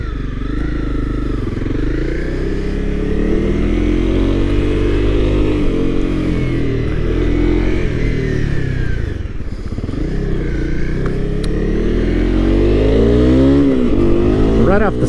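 A Honda CRF 250 Rally motorcycle pulls away and is ridden, its single-cylinder engine loud and close, the pitch climbing and falling as it revs through the gears.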